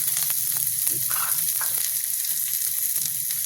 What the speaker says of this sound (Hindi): प्याज भी हल्का गोल्डन ब्राउन ही भूनेंगे, ज़्यादा जलाएंगे नहीं